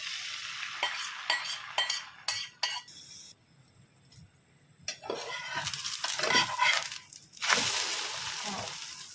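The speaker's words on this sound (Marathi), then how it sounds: "तेल आपलं चांगलं तापलं आहे आपण ऑमलेट टाकूया" Omelette batter frying in well-heated oil at a rainy-season Goan street food stall, with loud crackling sizzle punctuated by scraping and stirring clatter, a brief quieter stretch, then a sustained hiss.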